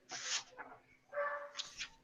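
During a Victorian-era vampire tabletop game session, a human voice imitates a dog barking with a few short, faint woof sounds in an uneven rhythm.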